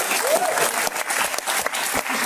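An audience at a comedy roast show bursts into loud, dense applause that continues steadily for a couple of seconds.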